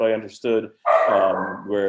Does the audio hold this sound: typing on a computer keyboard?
no